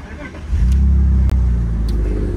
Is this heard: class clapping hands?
no